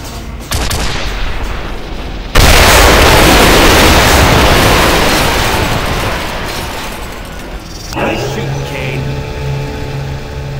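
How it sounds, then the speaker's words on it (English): A cannon blast bursts open a door in the sci-fi shooter Quake 4: a loud, sustained broadband explosion roars up suddenly, decays slowly over several seconds, then gives way to humming machinery and tonal game sounds. "Kane, hop in the cannon and see if you can't blow open the door to the access corridor"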